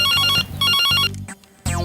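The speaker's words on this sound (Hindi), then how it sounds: "जब देखो तो फोन ही बजता रहता है" A household telephone rings in bursts of bright repeated electronic tones, loud and close, with a brief pause between rings before a final burst.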